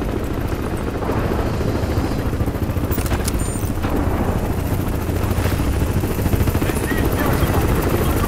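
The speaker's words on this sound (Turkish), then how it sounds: "Nerede helikopter?" A helicopter in Crysis 3 gives off a loud, continuous rhythmic rotor thump with dense low rumble and occasional bursts of noise on top.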